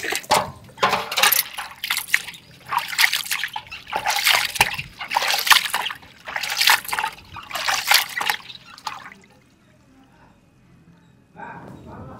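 Small anchovy fish are rinsed thoroughly in water, with repeated sloshing, splashing and trickling close by for about nine seconds before a brief quiet pause and one more splash.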